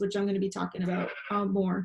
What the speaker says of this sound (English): You might hear my sheep in the background.